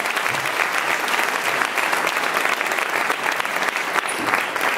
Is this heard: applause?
yes